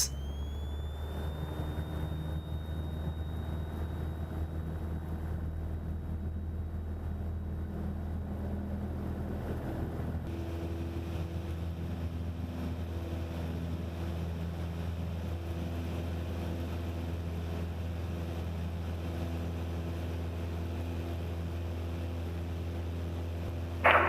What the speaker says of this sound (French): Arrivé à Aubenas, je remonte la piste et redécolle pour le dernier segment jusqu'à Aix.